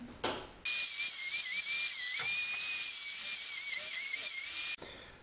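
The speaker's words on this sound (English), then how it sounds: "this bus bar is now cut using the Dremel tool" A Dremel rotary tool cuts through a bus bar on a Chevy Volt battery module, giving a loud, close, high whine that holds for about four seconds with a wavering pitch, then stops abruptly.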